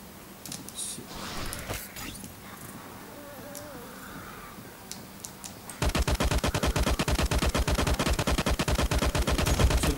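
Rapid, sustained gunfire rattles at a barricade in the video game LifeAfter, a loud dense burst of shots that starts abruptly partway through after quieter ambient game noise.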